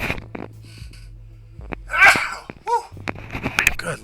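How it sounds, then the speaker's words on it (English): A man with a cold lets out one loud, sharp sneeze close to the microphone, with quieter vocal noises and rustling before and after. "I apologize for sneezing and shit"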